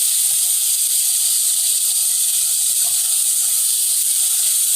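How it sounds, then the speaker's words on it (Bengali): Salted ginger and green chilli spice paste frying in a pan, part of a pointed gourd and shrimp dish, gives a loud, constant, close hiss that stays even throughout without talking. "অল্প পরিমাণ লবণ আমি এখানে দিয়ে জাস্ট মশলাটাকে কষাবো।"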